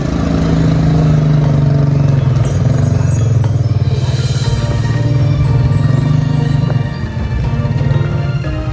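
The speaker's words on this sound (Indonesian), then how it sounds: "bayangin tuh motor ya nanjak naik" A motorcycle labors up a climb on a road near Baduy village, its engine drone loud, close and steady, with a slight drop and uneven putter near the end.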